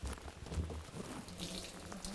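An outdoor hot tub's water tap opens and fills it with hot water at a mountain cabin: a steady, close rushing of running water with splashing, continuous throughout.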